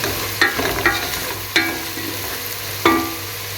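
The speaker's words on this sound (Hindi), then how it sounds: "1 टेबल स्पून मैंने इसके अंदर धनिया पाउडर का डाल के इनको हल्का सा मैंने सौते करना" Potatoes and eggplant sautéing with coriander powder and turmeric in a pan for aloo baingan sabzi, a steady soft sizzle broken by three or four sharp stirring scrapes, close by with no talk.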